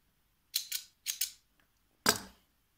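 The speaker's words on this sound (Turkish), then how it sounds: "Şöyle dikim işlemi için göz kararı olarak kesiyorum." Scissors snip yarn for sewing an amigurumi cloud teether rattle: two quick pairs of close, crisp cuts followed by a single louder snip, with no talking.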